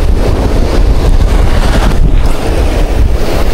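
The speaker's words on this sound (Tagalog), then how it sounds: "malakas yung hangin" Strong wind roars steadily across the microphone on the coast at low tide, a constant loud buffeting rush with a brief dip midway.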